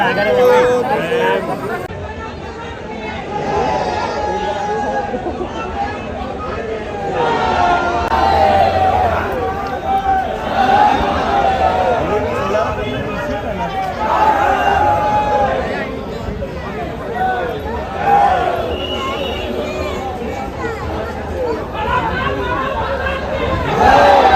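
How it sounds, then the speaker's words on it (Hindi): A large crowd at Mahakaleshwar temple in Ujjain fills the space with dense, continuous babble of many voices, rising and falling in steady waves throughout, with occasional louder calls above the hubbub. "और ज़बरदस्त भीड़ हो रखी है"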